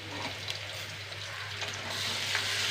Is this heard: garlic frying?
yes